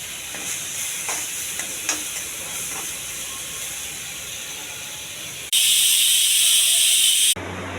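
Boiled black-eyed peas frying in a pan with mint and coriander give a steady close sizzle and hiss, with a few stirring scrapes early on and a louder burst of hissing near the end.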